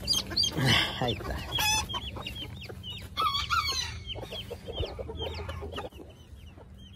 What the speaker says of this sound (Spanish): aquí anda la gallina. La Silky. La Maximina anda con sus pollitos